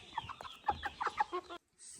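Heavy roosters of about five kilos and Korean hens clucking close by in a quick run of short, throaty calls, which stop abruptly near the end.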